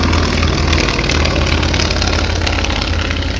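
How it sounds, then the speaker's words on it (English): A Yakovlev Yak-50 aerobatic aircraft's Vedeneyev radial engine drones loud and gruff at an air show, a continuous low rumbling throb with no talk over it. "Something very grunty about the noise of that Vedeniev."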